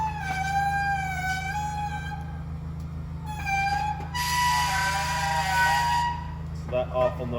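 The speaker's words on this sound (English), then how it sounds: "So that awful noise you're hearing is likely just that strap" While a 2021 Wildwood 273QBXL travel trailer's awning retracts in the cold, its strap squeals in long, shifting, high-pitched tones over a steady low hum.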